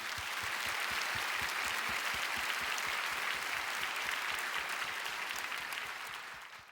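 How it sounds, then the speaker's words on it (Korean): A church congregation at a prayer gathering applauds in blessing, a sustained wash of clapping with a few distinct, regularly spaced claps standing out nearby, fading slightly at the end. "다 같이 큰 박수로 축복하겠습니다"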